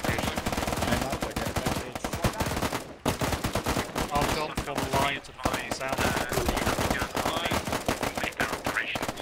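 Rapid machine gun bursts and heavy cannon fire in the military shooter Arma 3 during an Afghanistan campaign battle, dense and loud throughout with short gaps, while players shout and talk over the firing.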